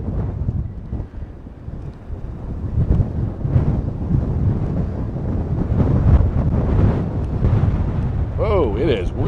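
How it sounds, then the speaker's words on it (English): Strong wind buffeting the microphone in loud, rumbling gusts, with a brief rising-and-falling whistle near the end. "Whoa, it is really windy."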